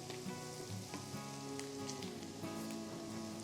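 Chopped capsicum, carrot and spring onion whites stir-frying in a pan over high flame for Schezwan fried rice, a close continuous sizzle with scraping and clinking of stirring, no talking.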